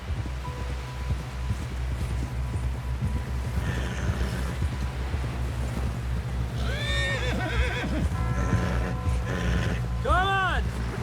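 Horse neighs and whinnies from Red Dead Redemption 2 over a steady low rumble, with a clear whinny around the middle and a stronger, closer neigh near the end, plus faint hoof and rustling sounds.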